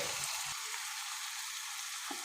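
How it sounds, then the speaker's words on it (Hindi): Crushed chili, turmeric and salt fry in a pan with a steady, dense sizzle, plus a couple of low knocks at the start and one near the end, with no talk. "मसाले को अच्छी तरह भून लीजिए।"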